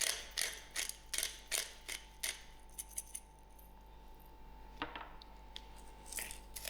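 A hand grinder cracks black pepper over paneer tikka and vegetable skewers, a quick run of dry, rasping crunches and clicks up close, coming in short bursts and then trailing off.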